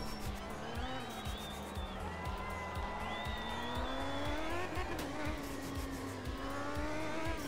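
Engine of a Soviet rally car in the racing game Art of Rally, a rising and falling motor drone with tire squeal and skidding, steady and moderately loud, with some talk faintly underneath.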